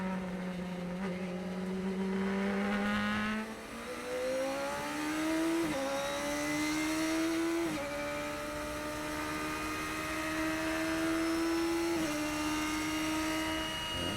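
Radical race cars at Sonoma roar loudly at a race restart, the nearby engine revving up through a series of rising gear pulls, each upshift dropping the pitch before it climbs again.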